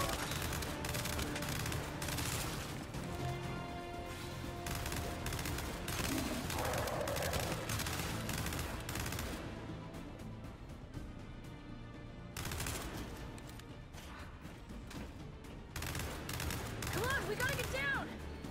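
Sustained rapid gunfire from the Gears 5 video game keeps up in loud, overlapping bursts through a busy battle mix, easing briefly before picking back up, while a player talks over it.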